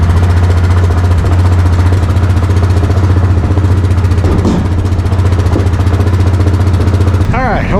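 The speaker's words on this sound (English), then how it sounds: "hope you can hear me over the four-wheeler" A four-wheeler ATV idles steadily in cold winter weather, a loud, close, continuous low engine drone that runs almost the whole time, with a faint clatter near the end.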